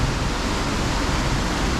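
A downpour lashes a Crinan Canal lock, a continuous close roar of rain with churning water mixed in, steady and loud for the whole stretch without voices.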